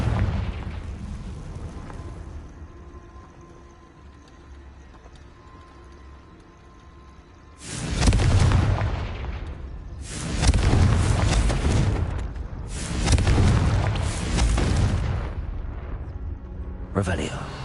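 Confringo fire-blast spell in Hogwarts Legacy, a quiet rumbling stretch followed by a rapid string of three or four loud booming fire blasts in quick succession, each a thick roaring burst, and a final sharp one at the end.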